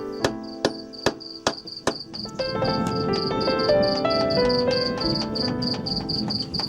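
A cricket carried along on a journey in Greece chirps in a steady, rapid, high-pitched series, loud and close, over a sustained tonal musical backdrop.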